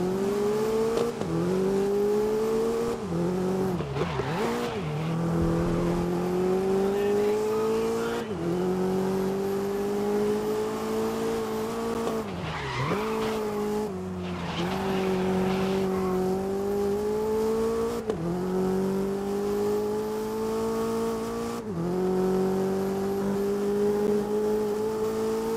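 A race car in the GRID driving game revs hard and drops through gear changes, its engine whine rising and falling again and again, with short bursts of tire squeal in corners. The engine stays loud and steady for the whole stretch.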